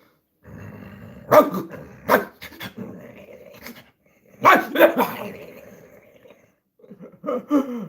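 A man imitates a conventional Labrador bark with his voice, giving a few loud, gruff barks and growls in two bursts separated by a pause, then a shorter burst at the end.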